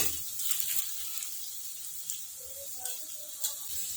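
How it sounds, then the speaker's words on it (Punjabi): Taro (arbi) pieces fry in hot oil, giving a steady, hissing sizzle throughout with small crackles and pops rising now and then. "ਅਰਬੀ ਨੂੰ ਆਪਾਂ 15 ਮਿੰਟ ਤੇਲ 'ਚ ਫਰਾਈ ਕਰਾਂਗੇ"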